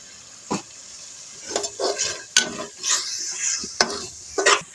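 Whole cloves, cumin seeds and black cardamom hit hot oil in a pan for chicken korma, crackling in short sizzling bursts between brief scrapes of a spoon.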